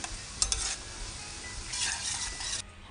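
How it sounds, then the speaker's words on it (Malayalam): Chopped garlic, ginger and green chili are stirred in hot oil in a pan. A steady sizzle runs under a few scraping clinks of the spoon, with a louder burst of frying toward the end before it quiets. "ഇതിലേക്ക് നമ്മൾ അരിഞ്ഞു വെച്ചിട്ടുള്ള വെളുത്തുള്ളി, ഇഞ്ചി, പച്ചമുളക് ചേർത്ത് നന്നായിട്ടൊന്ന് മിക്സ് ചെയ്ത് കൊടുക്കാം"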